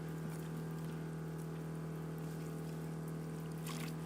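Warm water running out of a water line at an off-grid camp, a steady, faint trickle and pour over a constant low hum, with no talk.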